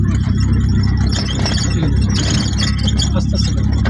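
Low steady engine hum of a car creeping forward slowly under light braking, close and loud, with some faint talk mixed in.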